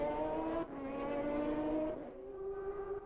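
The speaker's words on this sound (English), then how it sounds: "This is the BMW number 15, Winkelhock, Martini and Dalmas, running through the Ford chicanes" A BMW sports car, number 15, races through the Ford chicanes during Le Mans 1999 qualifying. The engine note is loud and close, dropping and rising through gear changes as the car brakes and accelerates, over about three seconds without commentary.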